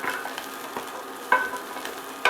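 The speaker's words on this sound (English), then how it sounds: "we're going to add our onions in here, and we're going to saute them so they're nice and aromatic, along with our carrots." Onions and carrots sauteing in a pan, a soft steady sizzle broken by a few sharp scrapes and clacks of stirring, close and moderately loud, no voices.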